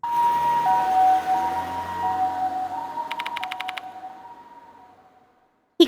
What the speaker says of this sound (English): He called an ambulance.